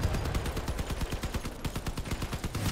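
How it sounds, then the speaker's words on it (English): In the video game Crossout, a weak machine gun fires at bots in a rapid, evenly spaced burst of shots that runs without pause for nearly three seconds, close and loud, with no talking. "Here I am again, shooting at bots."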